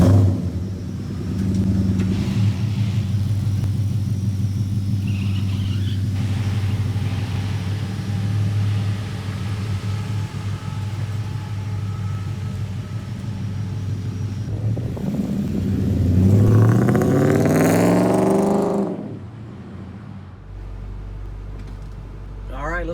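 A 1977 Ford F-250 pickup with a swapped-in Ford Coyote V8 drives on a street, its steady mid-pitched engine rumble running throughout, then rising in a loud rev and acceleration near the end before dropping back.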